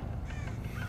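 A crow caws in the game Thief, a hoarse call set against a loud, dense low rumble of ambient game sound and music lasting about a second.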